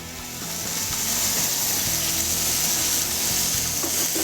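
Bacon-wrapped pork tenderloin searing in a hot pan, giving a steady, loud sizzle and crackle of frying fat that swells in and holds throughout, close by with no talking.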